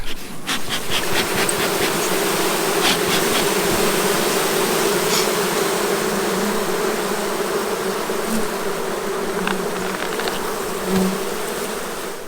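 Honey bees swarm around an opened beehive during a honey harvest, filling the air with a dense, continuous buzz; individual bees whine past close by now and then over the steady drone.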